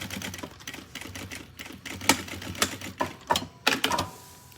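Sewing machine stitching close along the edge of a school backpack strap, a run of quick mechanical needle clatter in short bursts with a few sharper knocks, fairly close and with no talk.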